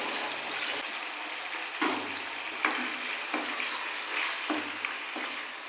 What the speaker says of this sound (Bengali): অল্প একটু সময় চিকেনটাকে ভেজে নেব।